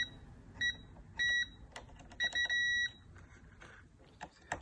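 A multimeter's continuity tester beeps while checking a fuse in a lightning-damaged Samsung TV: several short, clear, high electronic beeps in quick succession over faint handling noise.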